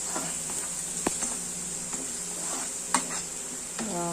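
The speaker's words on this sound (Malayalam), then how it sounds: "സോട്ട് ചെയ്യും" Beans sautéed with pepper powder in a pan give a steady close sizzle. Intermittent scraping clicks of a utensil stirring against the pan punctuate it.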